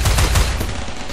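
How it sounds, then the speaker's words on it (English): Rapid gunfire in the video game Rimworld, a dense burst of loud overlapping shots with a heavy low-end rumble, filling the whole brief moment. "We'll just keep firing at them."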